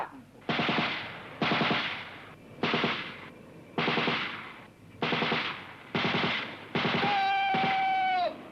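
A gun group fires machine guns on command: seven short, rapid bursts come at a regular rhythm, each crisp and rattling, heard at a moderate distance with a faint whistling tone near the end.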